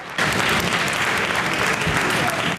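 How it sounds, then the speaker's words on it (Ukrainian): A lecture hall audience in Kyiv rising to its feet and applauding for Condoleezza Rice's arrival, a dense, sustained burst of clapping filling the room from start to finish. "Зал аплодує та підводиться."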